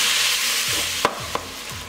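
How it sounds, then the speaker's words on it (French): Ground beef browning in a pan, a continuous hiss of frying with a few sharp scrapes and knocks of a spoon being stirred through the meat, close and without talk. "Alors vous remuez constamment."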